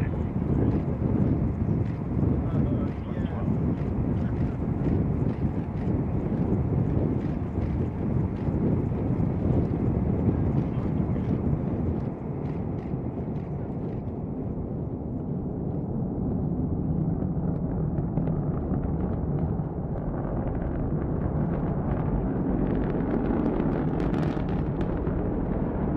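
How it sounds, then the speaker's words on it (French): A sustained, heavy rocket liftoff roar from a National Reconnaissance Office launch, loud and dense throughout with broad rumbling energy, slowly easing slightly midway, with faint voices occasionally in the background. "Liftoff."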